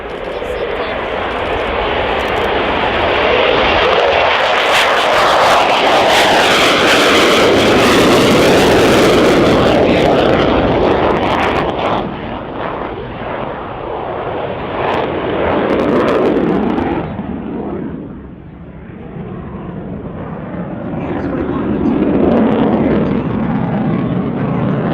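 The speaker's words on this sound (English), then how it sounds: "F-16AM Fighting Falcon." A Belgian Air Component F-16AM Fighting Falcon flying a display roars loudly and steadily, swelling and fading as it passes, with a brief dip before the engine noise builds again.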